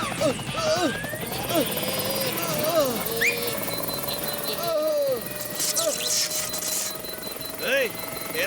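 A cartoon helicopter whirs steadily in the background throughout, partly masked by cartoon characters talking over it.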